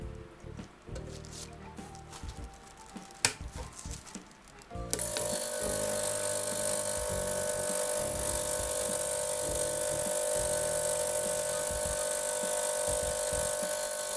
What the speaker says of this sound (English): I'm going to put it into the ultrasonic for 3 minutes and see if that'll loosen it up a bit